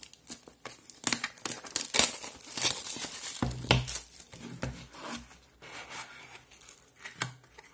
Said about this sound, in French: Donc on enlève le petit film protecteur.